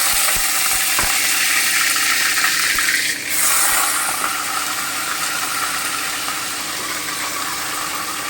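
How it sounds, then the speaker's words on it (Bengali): Marinated chicken frying in hot oil, a steady loud sizzle and hiss that holds throughout, with a couple of faint clinks near the start. "এবারে আমি চিকেনটা দিয়ে দেবো ম্যারিনেট করে রেখেছিলাম"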